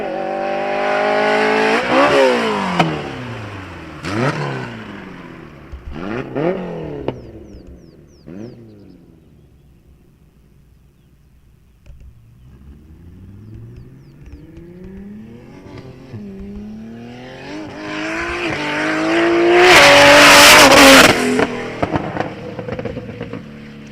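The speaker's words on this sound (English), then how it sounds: "Beautiful sounding BMW." A BMW drag racing car at a Sunday drag meet revs hard in repeated sharp bursts, then accelerates away and returns with a loud, roaring pass, with no talking over it.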